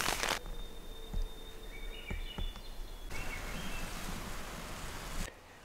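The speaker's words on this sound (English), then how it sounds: "Rain it is." Rain falling on a tent during early-morning stealth camping, a steady close patter with scattered sharper drops and faint bird calls and tones, the downpour thickening before cutting off near the end.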